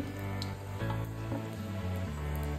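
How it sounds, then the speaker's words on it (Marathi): Mustard seeds crackle in hot oil in a kadhai, a dense, steady sizzle with fine popping that sounds like rain, fairly loud and close, with no talking. "गरम झालं की आपण त्यात सगळ्यात सुरुवातीला मोहरी टाकून घ्यायची।"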